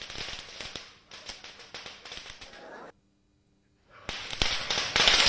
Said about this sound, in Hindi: लोग पूजा पाठ के बाद अपने घरों के बाहर पटाखे जलाते हुए नजर आ रहे हैं।